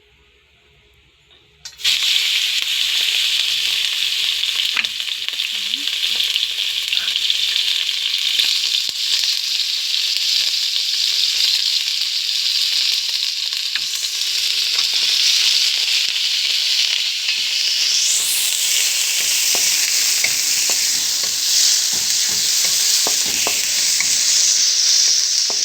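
Meat for chopsuey fries in a hot pan with a loud, continuous sizzle that starts abruptly and holds steady, with occasional stirring scrapes and pops close by.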